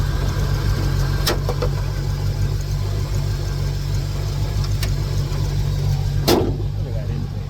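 A turbocharged Honda Element's engine runs in gear under load, a loud, steady, close mechanical drone with a few sharp clicks breaking through.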